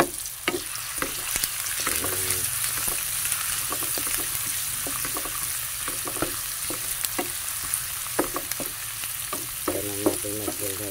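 Mussels cooking as adobo with oyster sauce are stirred in a pan. There is a continuous close sizzle under frequent clinks and scrapes of the spoon against the pan, with no voices.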